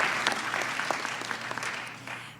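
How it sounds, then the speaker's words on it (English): Steady applause from a press conference audience at a classical school, close and continuous, with faint voices mixed in. "They're dying to clap."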